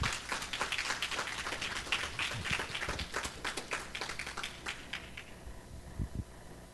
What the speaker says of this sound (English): Give God a big hand clap, please.